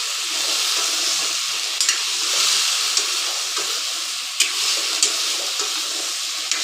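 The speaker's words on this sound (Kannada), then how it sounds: "ಸ್ವಲ್ಪ ಒಂದು 5 ನಿಮಿಷ ಈ ಥರ ಶಾಲೋ ಫ್ರೈ ಮಾಡಿಕೊಂಡ್ರೆ ಆಯಿತು." Green chillies shallow fry in oil in a pan for ridge gourd chutney, a soft steady sizzle broken by a few sharp spits and light stirring clicks, with no talk.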